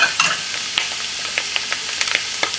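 Sliced green chillies and vegetables stir-fried over high flame for a Chinese sizzler, a steady close sizzle broken by sharp clicks and scrapes of stirring, no voices.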